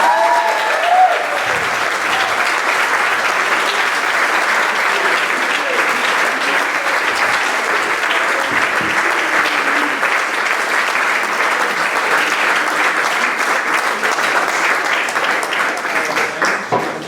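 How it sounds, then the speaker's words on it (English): At a junior awards ceremony for a rugby club, an audience breaks into sustained, dense applause mixed with cheers and whoops. It holds at an even, loud level for the whole stretch, with a voice briefly audible at the start. "give a big round of applause, a cheer and a whoop and everything else"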